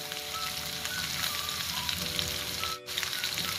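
Chicken in Thai sauce with squid soy sauce and lime is stirred and sautéed, a soft, steady sizzle with light stirring scrapes and a brief dip near the end.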